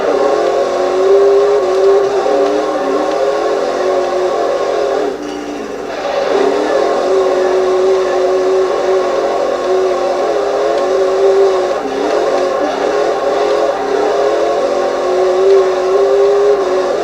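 A Ford Mustang Cobra revs and drifts in the Xbox 360 racing game Forza Horizon 2, its steady loud engine drone holding throughout with brief dips and pitch shifts as the car slides.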